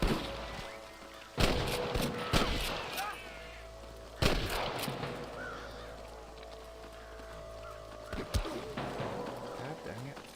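Sniper gunfire in the video game Red Dead Redemption, with several sharp gunshots cracking at irregular intervals over distant ambience, while voices shout and talk between the shots.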